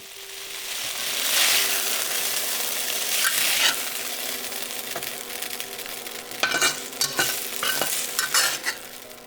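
Beef for Cambodian shaking beef (lok lak) sears in a pan while being shaken and stirred: a constant loud sizzle with scraping and clattering bursts toward the end.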